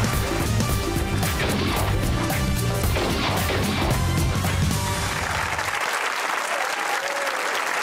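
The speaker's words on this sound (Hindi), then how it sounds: "ताली बजाएं" A studio audience at a comedy talk show claps loudly and steadily. Rhythmic music with drum hits plays under the clapping and cuts out near the end, leaving the applause to continue alone.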